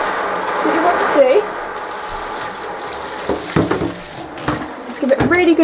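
A shower spray rinses the plastic base of a hamster cage, giving a continuous hiss of water with clattering, rattling knocks as the base is handled and shifted.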